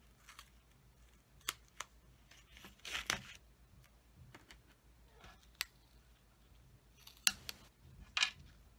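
Scissors snipping along paper edges while trimming a birthday card, a series of short crisp cuts in irregular rhythm with brief rustles of paper between them, close and quiet, with no talking.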